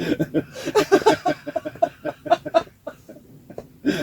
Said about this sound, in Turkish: Ördekler bize mi gidiyor sabah böyle?